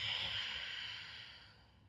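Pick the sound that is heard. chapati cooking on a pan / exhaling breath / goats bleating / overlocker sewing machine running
exhaling breath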